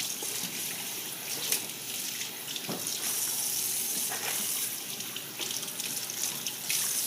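Tap water runs steadily in a kitchen sink over a whole beef tenderloin, a continuous close hiss and splash with small shifts as the meat is moved under the stream, no voices.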